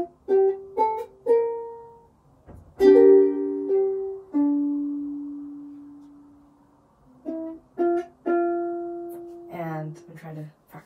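A ukulele picks the intro of a song in sparse, plucked notes and a few strummed chords, some left ringing to fade, played close and fairly quiet.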